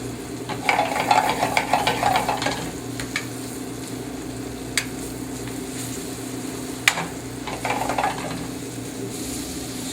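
Pork cooking in a pan of butter, oil and flour, a steady close sizzle with bursts of stirring and scraping, and a few sharp utensil taps.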